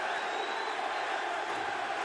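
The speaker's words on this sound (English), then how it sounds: "They're just applauding the guts we're seeing here." An arena crowd at an MMA bout involving Michael Chandler and Eddie Alvarez, a broad, steady roar of applause and cheering that holds constant throughout, with no distinct voices standing out.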